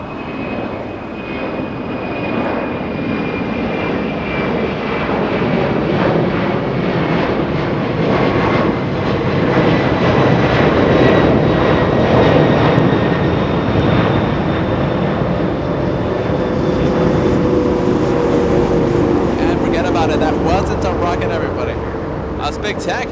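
A Boeing 747 jet departing Los Angeles International Airport roars loudly and steadily, swelling and then easing over twenty seconds while a voice talks over it.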